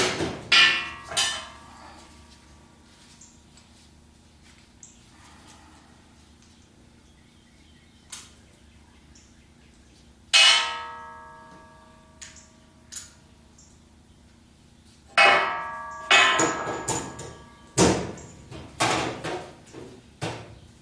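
A hydraulic direct lift cylinder being repaired takes a few sharp, loud metallic hammer blows in scattered bursts, with quiet stretches between them.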